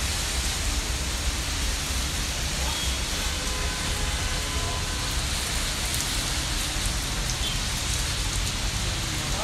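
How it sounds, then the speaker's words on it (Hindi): Heavy rain falls on Karachi, a dense, steady hiss of drops on surfaces that stays loud and unbroken throughout with no voices. "आज कराची में तेजदार बारिश हो रही है"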